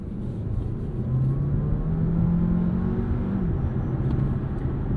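A 2024 Alfa Romeo Tonale Ti PHEV accelerates out of a corner, its engine droning steadily and rising in pitch through a long gear before easing off, heard from inside the cabin.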